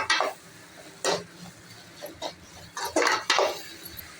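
Minced meat with chili and garlic sautéing in a pan, heard as scattered clinks and scrapes of a spoon against the metal, with soft background noise between the stirring strokes.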